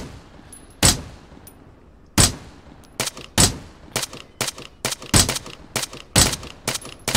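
Sharp, loud video game gunshots in irregular bursts, single shots giving way to rapid clusters of fire, each crack ending abruptly.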